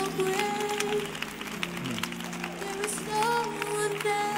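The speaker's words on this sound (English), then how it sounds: "clap your hands right where you are." A church congregation clapping hands during a sermon, rhythmic clapping blended with organ or keyboard chords and sustained tones, moderately loud and ongoing.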